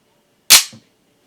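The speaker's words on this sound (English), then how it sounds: "I like the sound of a good 1911 racking." A 1911 pistol slide racked once: a sharp metallic snap followed by a softer, lower clack as it returns, close and loud in an otherwise quiet space.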